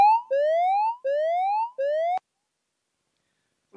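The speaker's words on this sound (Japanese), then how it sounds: "サイレンのような音で火災のお知らせが入ります" An iPad app's electronic fire-alert siren tone sweeps upward four times in a row, clear and fairly loud, then cuts off into silence.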